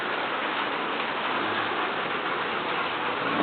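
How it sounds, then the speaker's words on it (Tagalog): Rain falls over a house under construction, a dense, even hiss of drops that runs close and steady throughout with no talk. "Umuulan, pasensya na ha"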